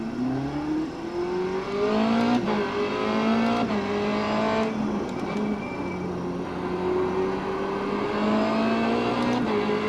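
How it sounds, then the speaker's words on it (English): Race car engine in the iRacing sim droning steadily for the whole stretch, its pitch climbing through gear after gear with sharp shift breaks between them, loud and close with no talking. "But let's take this car for a spin."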